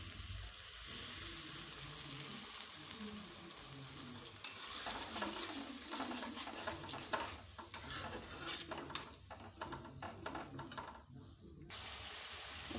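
Water is poured into a pan of okra curry cooking with a mustard paste and chilli, making a hiss and gurgling splash over steady frying sizzle, with some stirring scrapes near the end.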